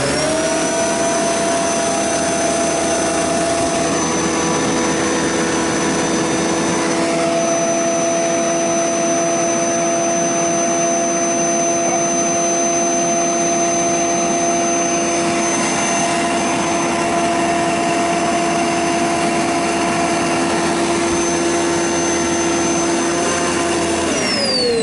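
A Kenmore/Panasonic HEPA air filter machine runs loudly and steadily throughout, a continuous blowing whir with a constant motor hum and high whine, close and unbroken with no talk.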